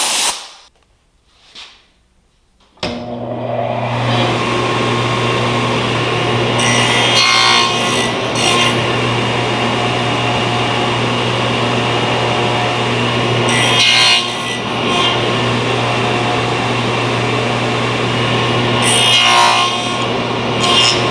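A saw recuts wooden box joints on a jig, starting after a few brief taps and then running steadily and loud with a constant motor hum and rhythmic bursts of cutting noise for about eighteen seconds.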